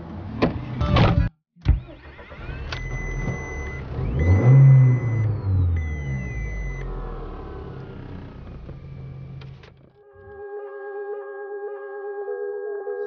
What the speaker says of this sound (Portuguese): E hoje eu vim aqui apresentar meu novo carro para vocês, que é o Golf aqui 2000,